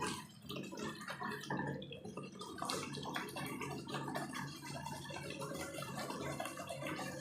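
Hot water poured into frying masala for a jackfruit (enchor) curry gives a steady, close sizzling and bubbling rush that continues evenly from start to end.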